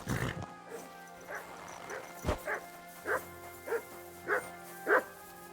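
Dog in Kingdom Come: Deliverance II barking in a run of about eight separate sharp barks, evenly spaced and moderately close, over low steady game ambience after a brief noisy burst at the start.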